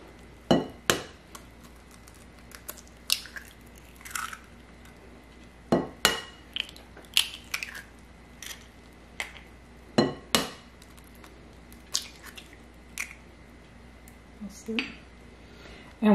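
A spoon or whisk works through cake batter of eggs, salt, baking powder and almond milk in a bowl. Irregular sharp clinks and taps ring out close by against the rim, with quiet gaps between them.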